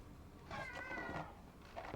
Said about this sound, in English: Oh, that's a cute looking cat.